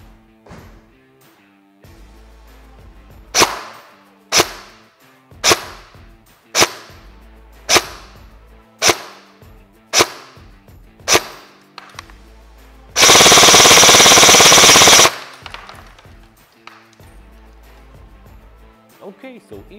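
A rapid run of sharp shots from a Kel-Tec RDB airsoft replica by ARES firing 0.2 g BBs, single cracks evenly spaced, then a two-second burst of continuous full-auto fire, loud and close.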